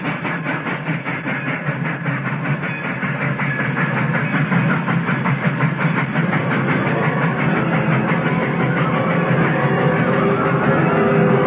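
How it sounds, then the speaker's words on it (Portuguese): Train arriving at a station as a radio drama sound effect: loud, steady rumble with a rapid rhythmic chugging and clatter that swells slightly as it nears, lasting throughout with no talking. "está chegando o trem, Pedro."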